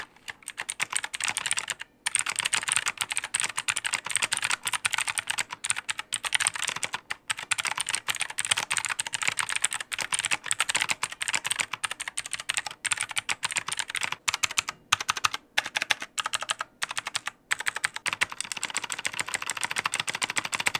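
Rapid, continuous typing on a cheap $10 full-size mechanical keyboard, with hollow, pingy, clicky keystrokes clattering closely and loudly, broken by a few brief pauses.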